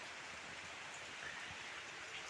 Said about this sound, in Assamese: দেখিছেনে বৰষুণ।